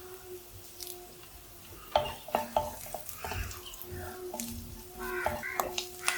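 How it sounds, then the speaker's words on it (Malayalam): Onion, ginger and curry leaves sauté in a pan for a ridge gourd curry, a quiet sizzle under clinking spoon-on-pan stirring strokes and scrapes, with a few faint background sounds. "ഒരു സവാള ഉള്ളി ഇഞ്ചിയെല്ലാം നന്നായിട്ട് വഴന്ന് വന്നിട്ടുണ്ട് ഇനി അല്പം കറിവേപ്പില ചേർത്ത് കൊടുക്കും"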